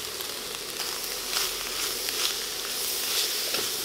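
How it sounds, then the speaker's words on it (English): Spicy garlic sauce sizzles and hisses in a hot wok with stir-fried cabbage, a steady close crackle with small popping flickers and no talking. "now we're going to add a spicy garlic sauce in"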